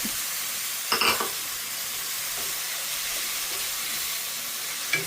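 Grated coconut stirred into boneless sardines frying in oil in a pan: a steady close sizzle and hiss throughout, broken by a scraping clink of the spoon near the start and another at the end.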